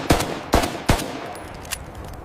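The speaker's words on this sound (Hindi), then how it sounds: "फायरिंग स्टार्ट करो।" Gunfire from guns being fired: three sharp, loud shots in quick succession, followed by a few fainter distant cracks and echoes, with no talking.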